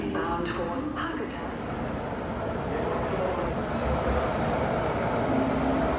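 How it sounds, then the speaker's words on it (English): A bullet train from Tokyo to Kyoto rumbles along with a steady, close rolling roar of wheels on rail and faint squeals, continuous throughout. "head to the station for the next leg of our trip, the bullet train to Kyoto"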